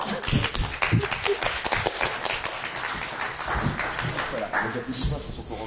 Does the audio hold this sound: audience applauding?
yes